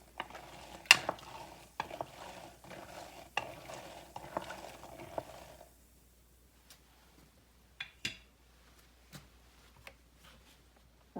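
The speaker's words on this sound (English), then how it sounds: "And now we're just going to give our cranberries a mix." Candied cranberries are stirred in a bowl, giving a continuous sticky, crackling scrape for about five seconds, then a few faint isolated clinks and taps near the bowl once the mixing stops.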